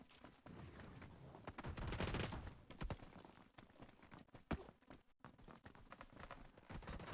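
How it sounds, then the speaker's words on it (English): Gunfire in PUBG with bursts of rapid shots and scattered single cracks, fairly faint and distant, over a low steady background. "Okay, there's definitely people over there shooting over there."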